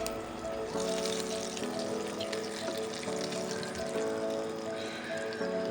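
Spiced brinjal (eggplant) slices fry in a little oil with a constant, bright sizzle. Steady tonal music plays over the frying throughout.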